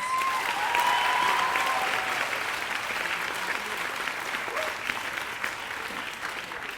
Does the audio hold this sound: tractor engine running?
no